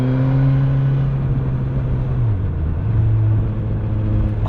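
A 2020 Suzuki GSX-S1000F motorcycle being ridden, its engine a steady loud droning hum with a slight pitch dip and recovery midway, heard continuously from the rider's position with wind noise and no talking.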